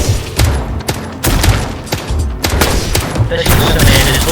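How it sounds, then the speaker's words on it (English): Rapid nail gun shots and booming explosions from a zombie video game, a loud, irregular barrage of sharp cracks with heavy low thumps throughout. "Nail gun explosions."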